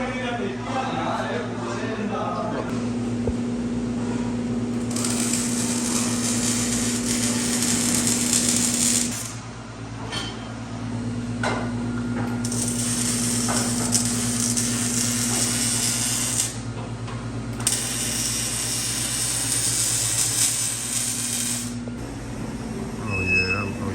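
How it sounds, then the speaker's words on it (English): Welding on a muffler delete for an Infiniti G37 exhaust: three sustained bursts of harsh, crackling hiss, each several seconds long, separated by short pauses, over a steady low electrical hum close by. "So he's about to weld it down right now."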